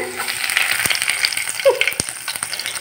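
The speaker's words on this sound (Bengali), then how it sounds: "এগুলোকে একটুখানি হালকা আঁচে কম বেশি করে একটু ভেজে নেবো" Food fries in hot oil over a low flame, making a soft, continuous sizzling hiss with scattered small crackles and pops close by.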